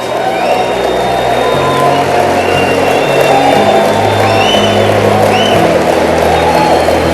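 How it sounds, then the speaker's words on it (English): A large audience cheers and applauds loudly and continuously, with whoops and shouts rising above a dense wash of clapping that fills the whole stretch. "Give yourselves a round of applause"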